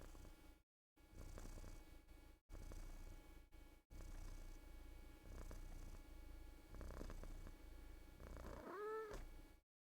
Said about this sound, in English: Can you hear the purrs?